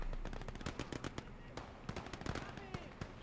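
Submachine gun and rifle fire from assaulting troops in the Gates of Hell Ostfront video game, rapid bursts and scattered single shots at mid distance over a low rumbling background, without speech on top.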